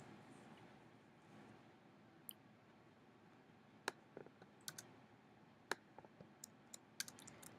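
Someone types a password on a computer keyboard: a few sparse, sharp key clicks spaced irregularly over a quiet room hum, each tap crisp and close.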